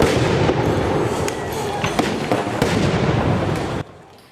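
Repeated explosions and sharp flashbang bangs burst at close range near an ICE facility in downtown Portland, loud and irregular over a dense crowd din, then cut off abruptly near the end.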